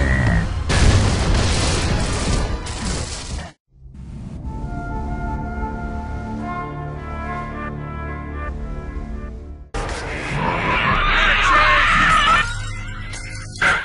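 A Boomer from the Gears of War game fires its explosive launcher: loud booming bursts open and close the stretch, separated by a droning, harmonic roar, all forceful and close.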